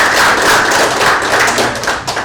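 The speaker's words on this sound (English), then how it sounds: "we can have a loud of applause for everyone" Applause from an audience at a formal ceremony at AIIMS Jammu, a dense steady wash of many hands clapping at close range that holds for a couple of seconds and then thins out slightly at the end.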